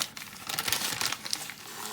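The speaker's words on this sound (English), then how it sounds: "So I'll just rip this." A plastic package of puff pastry torn open by hand, a close continuous crinkle and rip lasting about two seconds, no talking.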